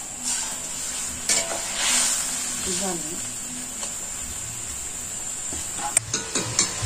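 Fish frying in a pan makes a steady background sizzle with occasional clinks of a utensil. Someone speaks briefly over it in a simple village kitchen.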